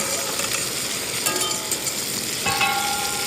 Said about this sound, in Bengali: ততক্ষণ আমি পেঁয়াজটা ভালো করে ভেজে নেব।